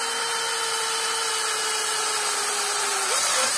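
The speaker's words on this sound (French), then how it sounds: "Donc je vais pouvoir percer par rapport au bord de la planche." Power drill boring into a wooden board for a 3D-printer cabinet, a steady high motor whine running throughout with the pitch stepping up near the end, loud and close with no talking.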